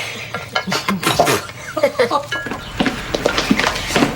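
Salad is tossed in a bowl with clinking, scraping utensil strokes close by, while people talk over much of the stirring.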